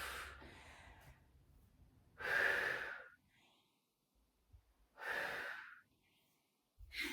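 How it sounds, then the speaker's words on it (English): Two strong, breathy exhalations about three seconds apart during a standing balance exercise, each a loud airy rush lasting under a second, with quiet pauses between and no talking. "Breathe out here."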